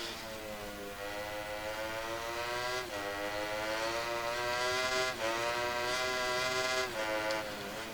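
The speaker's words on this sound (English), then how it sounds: "the historic Ducati just sounds like the regular Ducati, it's just echoed" Historic Ducati 990 MotoGP bike from MotoGP 19, its engine a loud, continuous high-pitched wail with heavy echo, rising and dipping through gear changes and briefly dropping off around braking points.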